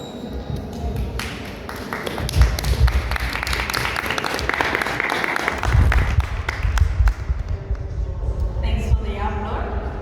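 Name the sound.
audience applause after a lecture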